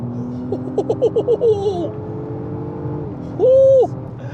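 A 2024 Acura MDX Type S SUV in Sport Plus mode accelerating under throttle, its engine note rising in a few quick pulses, pausing, then surging again in a loud, close burst.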